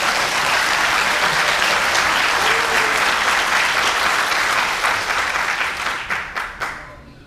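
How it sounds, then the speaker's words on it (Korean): An audience at a policy forum bursts into sustained, dense applause that fills the room, then thins into a few separate claps and fades out near the end. "박수 한번 쳐야 되는 거 아니에요?"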